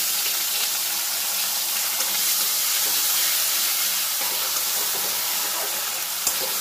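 Ground onion paste fries in hot oil in a pan with cumin, giving a steady bright sizzling hiss with faint stirring scrapes, loud and continuous with no talk.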